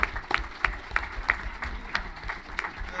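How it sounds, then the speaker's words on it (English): Scattered applause from a convention panel audience, a handful of sharp claps spaced in a loose, uneven rhythm over a low room murmur, moderately close. "I want to give him a huge round of applause for"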